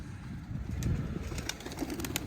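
Soft, low pigeon coos repeat in the background, with faint rustling and a few brief higher chirps.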